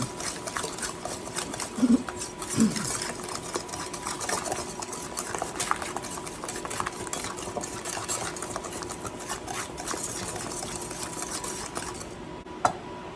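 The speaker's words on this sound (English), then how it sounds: "And whisk those in." A whisk beats ingredients for a lemon lilac cake batter in a bowl, giving a quick, steady ticking rhythm against the sides, with a couple of louder knocks and no talking.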